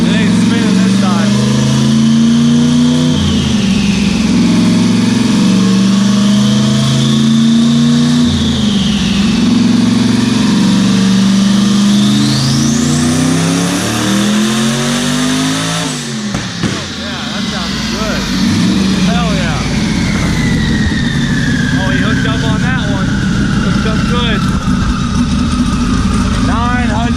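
A 1000+hp car engine revving hard on a dyno with the rear tires spinning, a loud sustained roar with the pitch rising and falling over nearly half a minute, a brief dip midway, with voices under it.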